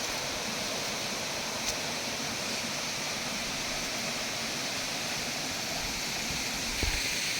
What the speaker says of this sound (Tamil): அதுக்கு முன்னாடி இந்த அருவியை பார்த்து ரசிங்க.